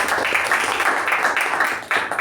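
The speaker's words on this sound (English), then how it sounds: "Let's give a huge round of applause to Toastmaster Midhun and Toastmaster Ujwal" A round of applause at a Toastmasters club meeting for two members: brief, fairly loud group clapping in a rolling rhythm that dips near the end before a short final surge.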